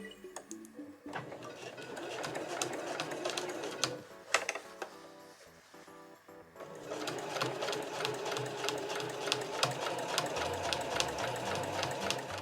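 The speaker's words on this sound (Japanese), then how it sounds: "最初は返し縫いをしないで縫い始めてください。" A household sewing machine stitches quilted fabric for a tote bag, a fast steady mechanical whirr with rapid ticking, pausing briefly midway before resuming.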